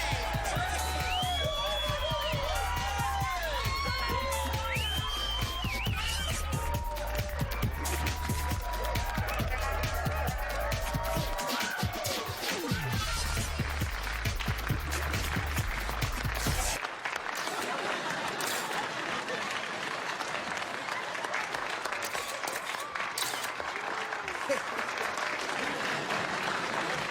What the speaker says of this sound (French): veuillez applaudir de toutes vos forces André